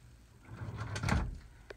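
A big storage drawer in a 2003 Gulf Stream Friendship RV motorhome slides open or shut with a brief muffled rumble and soft thump, close and fairly quiet.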